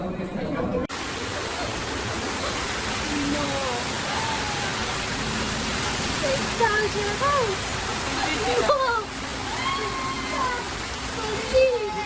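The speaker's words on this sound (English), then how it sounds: "flooding city streets, stations, metro, and even buses" Floodwater rushes through flooded city streets in France, a steady broadband roar of flowing water with faint scattered sounds on top.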